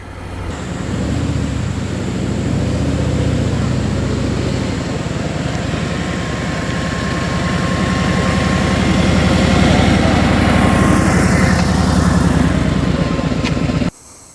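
A 2018 Harley-Davidson Road Glide Ultra motorcycle engine runs steadily at close range for about fourteen seconds, a loud, even throbbing hum that rises slightly before cutting off abruptly at the end.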